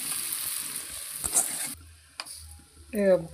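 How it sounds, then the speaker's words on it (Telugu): Onions frying with turmeric and peanuts in a hot pan give a steady, close sizzle that cuts off abruptly, followed by quiet scraping and a brief burst of stirring near the end. "పసుపు వేసినాక ఉల్లిపాయలు వేస్తాను"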